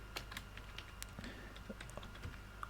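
Quiet keystrokes tap on a computer keyboard while income entries are typed into a money-management program, a few irregular clicks over a faint steady background hum, with no talking.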